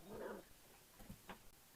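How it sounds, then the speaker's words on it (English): Puppies give a few faint, short yips and whimpers at a distance, quiet and scattered over a soft outdoor background. "There's the puppies."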